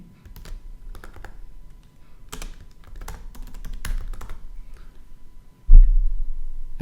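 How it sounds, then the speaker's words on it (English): Rapid clacking of computer keyboard keys as a supplier name is typed, in several quick bursts of close, crisp clicks with short pauses, ending in a louder thump. "we can simply type in their name"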